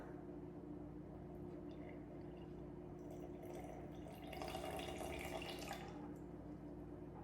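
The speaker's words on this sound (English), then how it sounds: "you're looking to add 77 grams of water" Water poured into a container sitting on a kitchen scale while measuring for a beginner sourdough starter, a soft steady trickle over a faint hum that swells briefly near the end.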